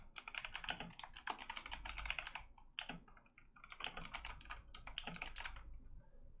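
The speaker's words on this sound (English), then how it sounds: "Sorry if you can hear my keyboard clicking and clacking." Computer keyboard keys clacking in rapid, uneven bursts of typing, close and fairly quiet, with short pauses between runs and no talking.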